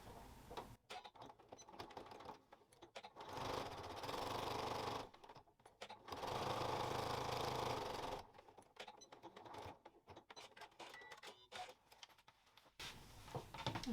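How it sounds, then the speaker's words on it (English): A sewing machine runs a line of top stitching on a double zipper pouch in several short bursts of rapid mechanical whirring, separated by quiet pauses. "So just one line of top stitching, but as I say, add a second line of top stitching if you like."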